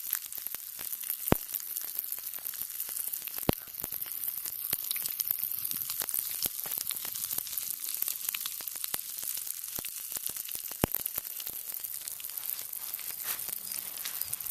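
Pop Rocks candy fizzes and crackles in Sprite, a dense continuous hiss peppered with sharp individual pops, heard close and alone.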